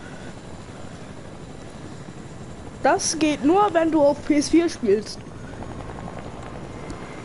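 A helicopter in a PS4 video game gives off a steady, even rotor drone that runs through the whole stretch, with a voice talking briefly over it partway through.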